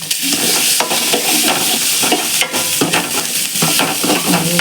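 Bitter gourd and onion sautéing in a pan, a steady close sizzle broken by repeated scraping stirs of a spatula against the metal, with no voices.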